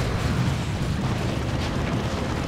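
The Imperial Abyss ability in Dawn of War 2 gives a dense, continuous rumbling roar, heavy and low like a sustained explosion or eruption, filling the whole moment at even loudness without pause.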